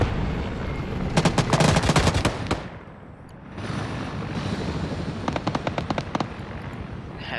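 Heavy 12.7 mm machine gun firing in a military video game, two rapid bursts of sharp cracks heard at a distance over a constant rumble of battlefield noise, with a brief lull between them.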